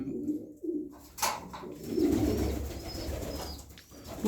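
Several pigeons coo close by in low, rolling calls, with a few brief flutters and rustles among the birds. No one talks.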